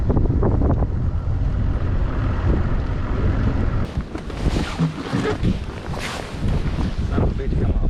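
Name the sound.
wind on a lake while bass fishing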